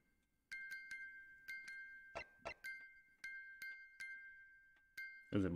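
Bright, ringing chimes from a music box in The Great Ace Attorney sound in spaced single notes and short clusters, each sustaining briefly, with a couple of duller knocks between them and a heavier thump at the end.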